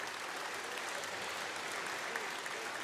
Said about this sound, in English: Clap your hands for Hanning!